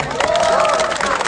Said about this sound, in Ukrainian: оплески йому!